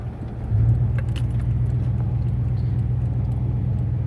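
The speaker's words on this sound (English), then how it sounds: "Right now I'm going through a sand wash, and I do have my four-wheel drive engaged" An off-road vehicle in four-wheel drive pushes through a soft sand wash, giving a constant low, heavy rumble that swells in after a quiet start and then holds steady and close without any talking.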